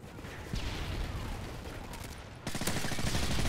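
Rapid automatic fire from an MP9 submachine gun in Modern Warfare 3, two loud sustained bursts, the second starting after a brief gap, close and dominant over faint background.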